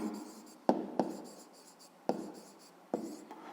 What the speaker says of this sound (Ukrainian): Отже, пишемо спочатку.